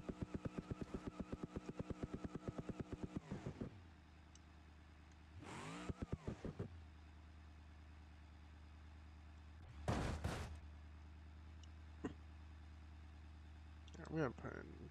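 A tractor engine in low gear from the BeamNG.drive video game, revving with a rapid rhythmic chug that settles into a low steady drone, while someone talks intermittently over it.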